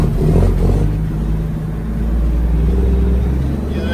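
A 1999 Freightliner FLD132 Classic XL truck driving, a loud, steady low diesel rumble with a broad drone that holds throughout, with no voices.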